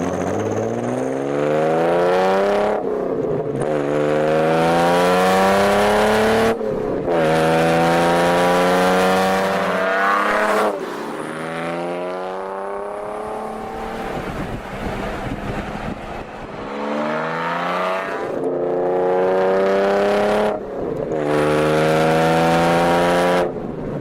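A Jaguar XK inline six engine revs up repeatedly, each pull rising in pitch then cutting off with a gear change, loud and close, with wind rushing across the microphone.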